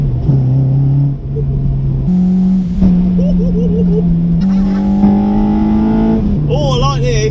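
A Honda Civic EP3 Type R engine, modified, revs and drones loudly throughout, pitch climbing and dropping with quick throttle blips and downshifts, heard from inside the car.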